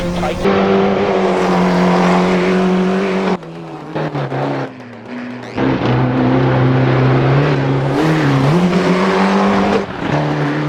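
A Ford Escort Cosworth rally car's engine in a racing video game roars and revs at high pitch, dropping briefly as gears shift, loud and continuous with occasional tire noise and talk underneath.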